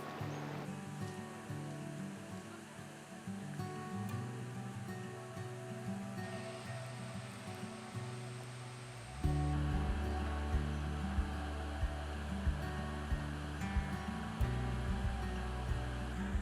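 Rushing current of the Botu Kapali river, a broad steady roar of moving water that holds throughout and grows heavier and louder partway through, with no voices.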